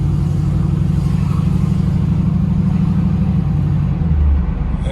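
A Chevrolet Camaro SS with a new exhaust, bought at auction, cruises along, its engine holding a steady, loud low rumble heard from inside the cabin without a break.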